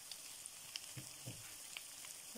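Croutons fry in a pan with a faint, steady sizzle and a few small crackles and pops, heard close and quiet with no talking.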